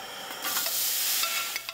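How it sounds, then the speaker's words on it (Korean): Ingredients being stir-fried in a pot (beef for a soup broth): a steady close sizzle and hiss with scraping stirs of the utensil. "냄비에 볶습니다."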